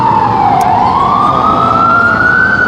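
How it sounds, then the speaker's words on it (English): Ambulance siren driving slowly past on a city street, a loud continuous wail that dips and then climbs steadily in pitch, close by and drowning out the surroundings. "Maybe we just talk while ambulance is going very slowly by me."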